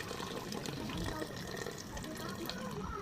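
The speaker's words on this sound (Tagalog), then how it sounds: "Lagyan na natin siya ng water." Hot water pours steadily into a pot for sopas soup, a close, continuous splashing gush lasting a few seconds.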